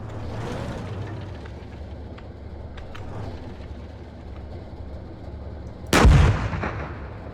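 A T-72 tank cannon in ArmA fires a single loud, close blast near the end, preceded by a low engine rumble and faint clicks.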